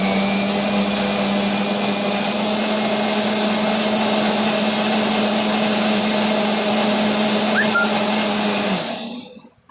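An electric blender grinds dry-roasted spices in a loud, steady whirring drone with a constant motor hum, running close and unbroken for most of the time before winding down and stopping at the end.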